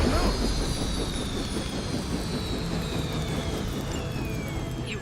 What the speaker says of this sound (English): You've grounded the helicopter.